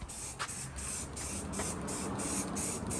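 Hissing bursts of spray paint being applied to a truck roof rack, a series of short even sprays repeating at a steady pace over a constant background, with no speech.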